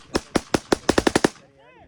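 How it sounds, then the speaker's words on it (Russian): A machine gun fires blank rounds in a quick burst of about eight shots during military training. The shots are loud and sharp, with the pace picking up toward the end, and a faint ringing tail follows. "Хоть стреляют холостыми, на самом деле, очень все реалистично."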